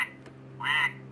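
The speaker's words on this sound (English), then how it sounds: "What does the duck say? Quack." A pull-string toy duck gives one short, nasal electronic quack close by, after a quiet pause.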